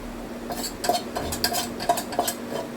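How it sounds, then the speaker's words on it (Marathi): Cumin seeds stirred in hot oil in a pan, with a spoon scraping and clinking against the metal several times over a steady faint sizzle and a constant background hum. "जिरे टाकून गरम केलं मस्त तेल टाकून"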